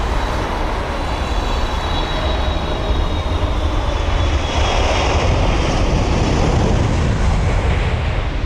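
Air Canada airliner taxiing in at London Heathrow, a loud, steady engine rumble and roar with a thin high whine, continuous throughout and close by.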